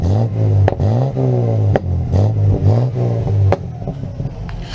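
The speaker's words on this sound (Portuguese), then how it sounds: "o senhor pode acelerar um pouquinho aqui só pra gente ver como é que tá?" Car engine revved repeatedly during an emissions and noise inspection, likely a Chevrolet Omega or Bonanza with a 4.1 engine, giving loud, close rising and falling revs in several bursts.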